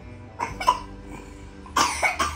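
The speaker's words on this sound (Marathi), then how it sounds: "अरे अरे खोकला." A child coughs in a home, producing a few short, dry bursts with a pause between them, heard close and alone.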